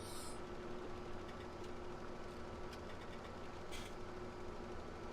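A T7 tractor engine idling in Farming Simulator, a low, steady rumbling hum that stays even and quiet throughout, with faint ticking above it.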